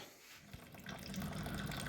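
Water poured into a beeswax melter, a soft splashing and gurgling flow that starts quietly and builds to a steady stream, fairly close and low in level.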